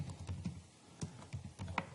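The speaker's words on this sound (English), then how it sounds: "So I'll begin by typing the EViews command show SP500." Typing on a computer keyboard, a sparse series of soft, separate keystrokes, quiet and close, with a short pause midway and no voice over it.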